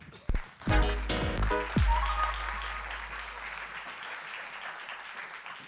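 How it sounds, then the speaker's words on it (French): Thunderous audience applause welcomes speakers at a French talk on artificial intelligence in healthcare in Nantes, starting with a few sharp claps and swelling into a broad, sustained ovation that slowly fades over several seconds. "vous pouvez les accueillir avec un tonnerre d'applaudissements"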